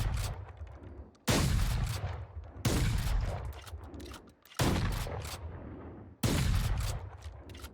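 Valorant gunfire from an in-game weapon, with four heavy bursts of rapid shots, each starting sharply and tailing off, separated by brief pauses. Loud and close, with no voices.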